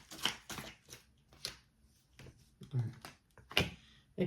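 Playing cards shuffled during a tarot-style card reading, giving several quick papery riffling bursts spaced across a few seconds, close and fairly soft.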